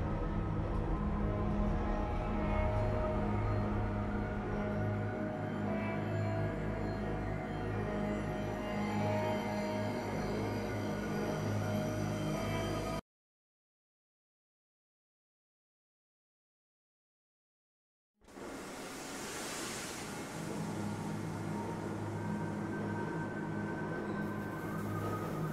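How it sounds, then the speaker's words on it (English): Tram train ride in the video game Black Mesa: a continuous rumbling, rattling rail drone that cuts to silence for several seconds, then resumes, moderately loud and without voices. "This train is inbound from Level 3 dormitories"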